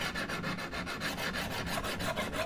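A knife blade drawn across stones on a Wicked Edge Gen 3 Pro guided sharpener gives faint, rhythmic scraping strokes in quick repetition, with no voices.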